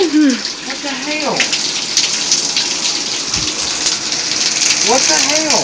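A shower head sprays water mixed with Kool-Aid in a steady, loud hiss, like heavy rain hitting a surface, with voices briefly heard over the rush at the start and end.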